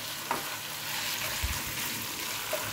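Garlic fries in a pan with a soft, steady sizzle, and a few light scraping stirs stand out over the continuous crackle.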